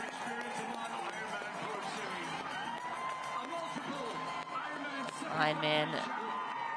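A crowd cheers along the finish line of the IRONMAN 70.3 Zell am See-Kaprun as the leading triathlete runs in. A commentator talks over the steady, moderately loud noise, which swells with whoops near the end.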